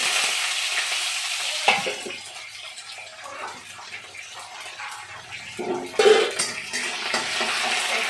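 Cumin, mustard seeds, curry leaves and green chili hit hot oil while kanda poha is being made, giving a steady close sizzle with louder crackling bursts near the start and again around six seconds, plus faint stirring clinks.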